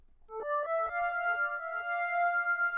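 An FM synth patch from FL Studio's FM fruit plugin plays a short, clean melodic figure of several quick bell-like notes settling into a sustained tone, soft to moderate in level, with no talking.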